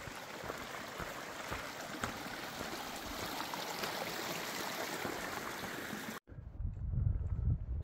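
A small stream of water runs beside a rock slide on the Continental Divide Trail, a continuous close rushing trickle, cut off near the end by a burst of low wind rumble.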